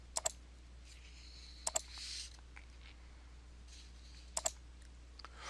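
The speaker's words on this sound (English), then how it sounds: "Now click on OK to apply the formatting." Mouse clicks on a computer, heard in three close pairs of sharp, quiet clicks spaced about two seconds apart over a faint steady hum.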